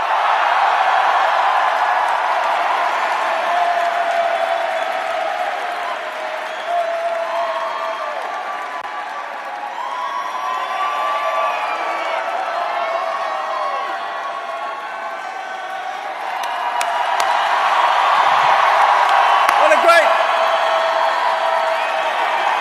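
Large campaign rally crowd in Chicago cheering, clapping and whooping continuously, loud and dense, swelling again toward the end with sharp whoops rising above the roar.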